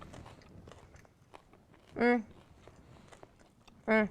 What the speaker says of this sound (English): it's crunchy, definitely with the toasted bread and the radishes being crunchy